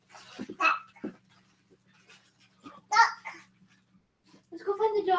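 A dog barks a few times at moderate distance in a home, with a voice and babbling nearby mixed in among the barks.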